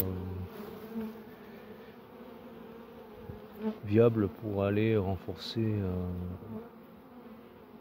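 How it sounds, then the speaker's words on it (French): A low, continuous buzz of a swarming honey bee colony hums in the background while a person speaks over it partway through. "c'est que c'est les abeilles là"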